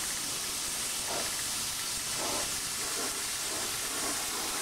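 Steady broadband hiss of a spray gun laying paint onto a motorcycle fairing for a track bike, continuous and close with slight pulsing, no voices.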